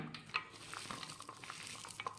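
Soft squishing and scraping as boiled potatoes are mashed in a pot, close and steady, with occasional clinks of a utensil.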